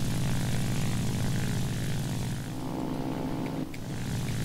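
Propeller-driven attack aircraft flying in War Thunder, armed with bombs and rockets, a loud, steady droning engine hum with a buzzing propeller tone that shifts slightly in pitch partway through, close and continuous with no talking.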